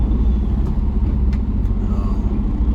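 A diesel truck's engine runs steadily while driving, a loud continuous low rumble with road noise and no voices.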